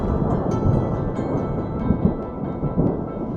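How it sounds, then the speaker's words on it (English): Thunder from an approaching storm rolls over an open grassy area with fallen deadwood. Low, deep rumbles swell and fade, with a few louder thumps and faint rain-like hiss beneath. "mental note, there's a storm coming"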